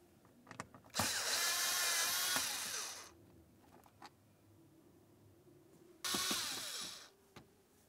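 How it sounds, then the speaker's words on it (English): Phillips head screws being backed out of a plastic radio bezel panel on a 2004–2015 Nissan Titan, heard as two faint whirring driver bursts, the first about two seconds long and the second shorter, with light clicks between them in a quiet room. "To remove this, we're going to use a Phillips head screwdriver."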